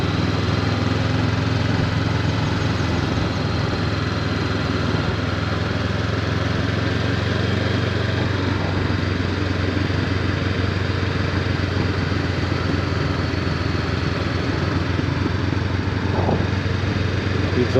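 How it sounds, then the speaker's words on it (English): A Honda NX500 motorcycle rides through forest roads near Lake Vyrnwy in third gear: a loud, steady engine and exhaust drone with wind rush throughout, and no distinct pops standing out. "The exhaust popping, whether the microphone's picking that up."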